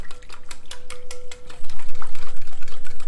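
Ingredients being mixed in a bowl with a utensil for copper pennies, giving a steady series of close, regular scraping and clinking strokes with a faint tone running underneath.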